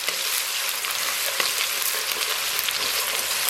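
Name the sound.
frying ginger, scallion and garlic in oil in a wok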